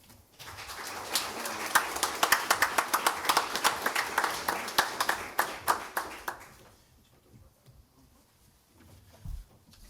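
Hands clap at a first responder awards ceremony honoring members of a fire department, in a run of distinct, fairly loud claps that come quickly, then thin out and stop, leaving a quiet room with a low thump near the end.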